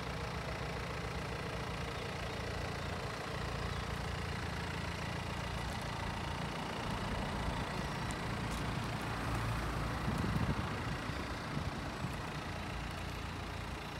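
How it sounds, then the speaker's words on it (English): Steady low rumble of teatime road traffic through a village, engines droning continuously with vehicles passing at moderate distance, no voices. "Busy time of the day, just with the tea time traffic heading through the village"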